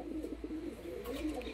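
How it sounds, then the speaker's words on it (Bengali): Pet pigeons coo in low, rolling murmurs, close but soft, over a steady low background hum. "পায়রা কিন্তু ডাক করছে"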